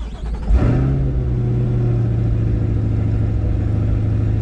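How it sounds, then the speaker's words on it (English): A Chevrolet C8 Corvette 3LT fires up with a quick starter whirr and a loud engine catch, then settles into a steady, deep idle rumble close by, with no talking. "So for that, we're going to go ahead and start the car."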